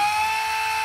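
A brushless motor spins at low RPM with a steady, piercing high-pitched whine and a strong tonal hum, loud and close throughout a very short stretch.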